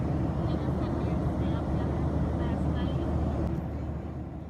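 Steady broadband rumble of an airliner cabin in flight, a constant low engine and air drone filling the background with no breaks, easing slightly toward the end.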